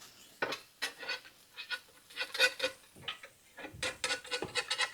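A spatula scrapes and taps against a pan while grilled cheese hotdogs are flipped, giving a string of close, sharp metallic clacks and scrapes at an irregular rhythm, with no talking.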